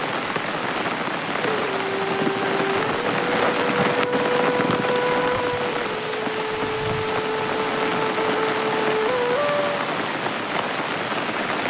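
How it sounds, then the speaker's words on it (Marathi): Heavy rain pours steadily around a village percolation pond, a dense continuous hiss of drops on surfaces with a faint tonal whine drifting underneath, no voices. "आता आज शप्पथ भरपूर पाऊस असा पडतोय मित्रांनो"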